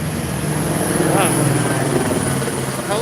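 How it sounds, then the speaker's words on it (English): A police helicopter with a spotlight flies overhead at night outside a police station protest, its rotor thudding loud and steady while a person talks over the noise. "Helicopter with spotlight coming overhead."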